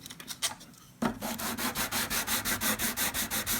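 80-grit sandpaper rubs back and forth on the fretboard of a Takamine EG341-SC acoustic guitar. A few light strokes come first, then rapid, even, close rasping strokes with no talk.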